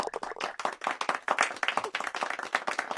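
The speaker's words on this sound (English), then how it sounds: "There's a little golf clap there in the distance," In a golf video game a distant crowd gives a polite golf clap, a quick, fairly faint patter of scattered hand claps that carries on for about three seconds with no talk over it.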